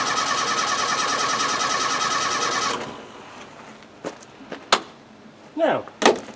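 A Land Rover 90 engine cranking over on the starter without firing, a loud steady whirring churn that stops after about three seconds, followed by several sharp clunks and a brief squeak.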